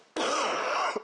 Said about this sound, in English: I warned you that I was going to cough.